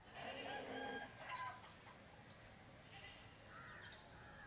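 In the Bustling Farm soundscape of the video game Spirit City, hens cluck and a rooster crows amid bleating sheep, a faint farmyard mix of animal calls with no talking.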